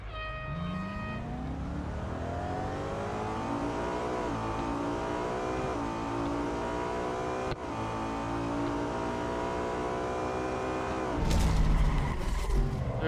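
A BMW M3 GTR roars down a drag strip in the Real Racing 3 game, its engine revving hard and climbing in pitch through several upshifts, loud and continuous before a final burst of noise.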